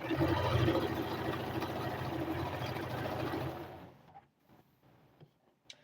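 A sewing machine stitches a shirt in a steady fast mechanical whir for nearly four seconds, then stops, leaving a few faint clicks and handling noises in near-silence.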